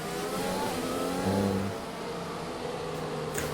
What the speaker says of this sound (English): The safety car's going very slowly here.